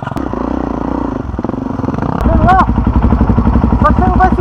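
A Suzuki DR-Z dirt motorcycle engine revs and labors up a trail, loud and close, with rising pitch sweeps as it accelerates and clattering from the rough ground.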